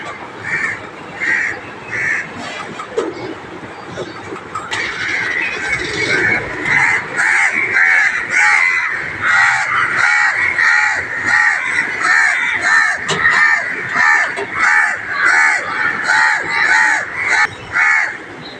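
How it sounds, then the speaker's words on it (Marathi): Many crows caw loudly and repeatedly, a dense overlapping chorus of harsh calls that thickens midway and continues without pause. "कावळ्यांनी पण ओरडायला चालू केलं."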